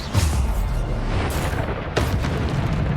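Bombarda blasting spell explosions in the video game Hogwarts Legacy, a continuous loud, booming rumble with two distinct heavy blasts about two seconds apart over a dense crackling roar.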